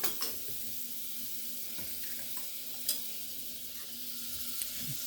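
Butter melting in a pot as the base for a roux for a bacon cheeseburger soup, giving a steady soft sizzle with faint stirring clicks throughout, fairly quiet and heard alone without talk.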